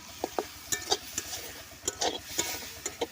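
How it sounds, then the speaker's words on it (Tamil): Masala spices with chili powder being stirred and sautéed in a pan for egg curry, giving soft scraping strokes and light sizzling in an irregular rhythm, close and fairly quiet with no talking. "இப்போ நம்ம நல்லா வதக்கி விட்டுடலாம் வாங்க, கிளறி விட்டுடலாம்."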